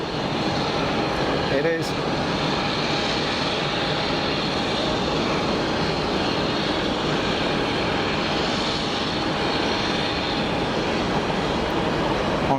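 An easyJet airliner rolls on runway 22 at Geneva Airport, its jet engines a steady broadband roar heard from a distance throughout, with someone briefly speaking over it.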